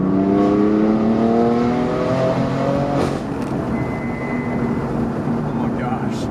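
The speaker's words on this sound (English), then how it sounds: "part of why I love this exhaust system so much is literally just because it has so much more volume to it, but also because of the tone" A BMW F8X with an S55 engine and secondary cat delete exhaust revs hard close by, a loud rising then falling engine note over about three seconds before settling into a steady idle drone.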